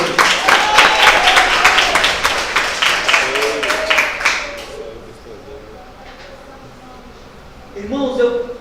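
Church congregation at a Wednesday deliverance service bursts into loud, dense applause that fades out after about four seconds, followed by a quieter stretch and a brief return of clapping near the end.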